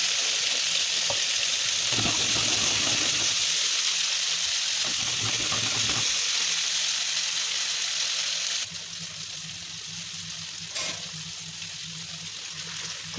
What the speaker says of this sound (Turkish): Domateslerimizi yine yüksek ateşte kızartıyorum.